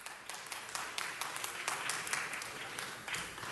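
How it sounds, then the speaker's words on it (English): At a city council meeting in City Hall, a room of attendees applauds visiting schoolchildren with a steady, fairly faint patter of clapping that continues throughout. "So let's give them a round of applause."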